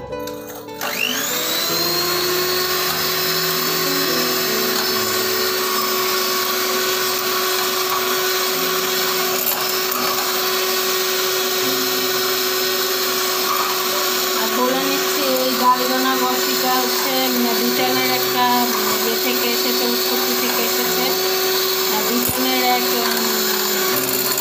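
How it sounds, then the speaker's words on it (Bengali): Electric hand beater whipping dalgona coffee, a steady loud motor whine with a high pitched hum that runs continuously for the whole stretch, its tone wavering slightly as it churns the mixture. "তো আমি এরকম একটা হ্যান্ড বিটার মেশিন দিয়ে আমি এটাকে করে নিব"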